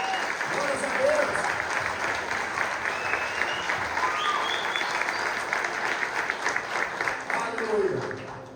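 Steady, dense applause from a church congregation greeting new members during a Christmas program, a full crowd clapping continuously with scattered voices mixed in, trailing off at the end.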